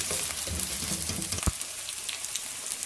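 Black francolin meat roasting and sizzling in a karahi, a steady close frying hiss with a brief stir or knock partway through.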